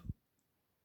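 A single soft mouse click as a channel option is selected in a web browser, one short low tap followed by near silence.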